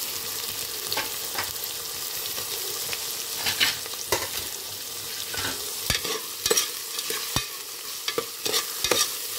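Sliced onions frying in oil over slow-medium heat, a constant bright hiss with sharp spatula scrapes and taps against the pan at irregular intervals, close up and with no voices.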